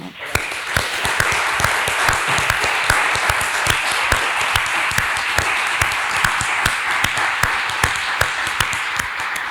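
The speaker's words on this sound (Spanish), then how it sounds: "Yo creo que un aplauso para esa palabra, ¿no?" Sustained audience applause fills a university closing ceremony for Campus America, a dense wash of many hands clapping steadily throughout, with individual sharp claps standing out near the front.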